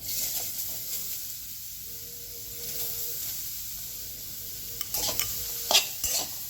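Grated beetroot being sautéed in ghee in a kadhai, with a soft continuous hiss of frying and a few sharp spoon scrapes and clinks toward the end, close and fairly quiet.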